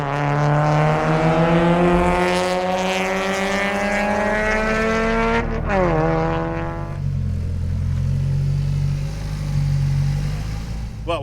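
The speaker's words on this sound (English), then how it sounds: "Car's going good." A Mazda Miata race car drives on a racetrack with its engine revving hard. The pitch rises steadily through the gears, and a sharp drop marks an upshift into fourth. The engine is close and loud, with no talking.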